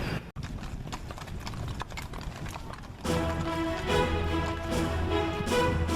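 Horses' hooves clip-clop on a trail ride, with an irregular patter of several animals that grows louder and busier partway through, heard without speech.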